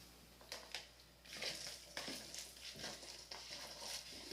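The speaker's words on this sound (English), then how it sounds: "Get it all stirred up and mixed together" Corn fritter batter seasoned with Creole seasoning and hot sauce being stirred in a bowl, soft rhythmic scraping and wet patting strokes repeating at a moderate pace, fairly quiet and close.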